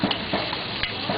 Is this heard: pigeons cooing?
no